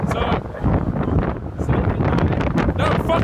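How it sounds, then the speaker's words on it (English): Strong gusts buffet a handheld microphone high up in an exposed outdoor spot, producing continuous loud rumbling wind noise throughout. "because it's that windy up here"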